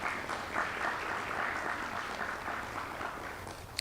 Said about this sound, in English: Can we get a round of applause for those folks